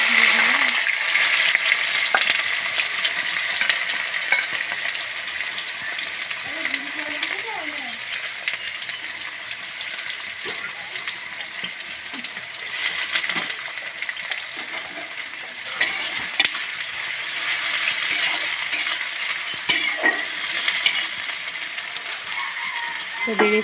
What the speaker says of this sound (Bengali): তেল গরম হয়ে গেছে, এবার বেরেস্তা ভাজবো।